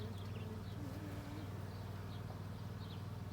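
Honeybees buzzing around an open hive during an inspection, a faint, steady low hum with occasional closer passing buzzes, fairly quiet throughout.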